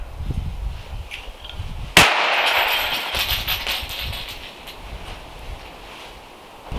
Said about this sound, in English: Now when you throw the device, the lever will be ejected from the device and it will go bang.